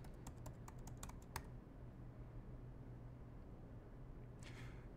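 Quick bursts of typing on a computer keyboard enter a server command in a terminal, a rapid cluster of light clicks at the start, then quiet hum, with a faint few keystrokes near the end.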